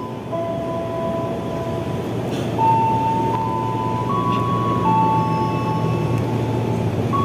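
KRL Cikarang commuter train pulls into track 1 at a station with a low continuous rolling rumble. Sustained tonal squeals come from the wheels or brakes, and no one speaks.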